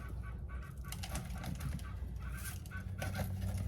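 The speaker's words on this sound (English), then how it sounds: "Chickens are having a morning." Chickens cluck and chatter faintly in the background over a constant low rumble, short scattered calls rather than a steady rhythm.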